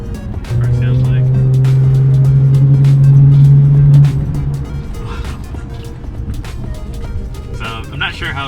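Lexus GS 350 F Sport fitted with a Borla exhaust on a night drive, a steady engine drone holding for a few seconds before easing off, heard from inside the cabin with clicks and light road noise.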